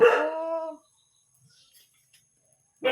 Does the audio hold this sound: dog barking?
yes